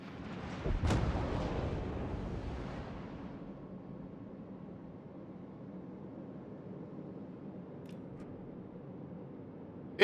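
A single heavy naval gun blast from a warship in a naval combat game booms loudly near the start, then rumbles and fades into a low, steady ambient hum.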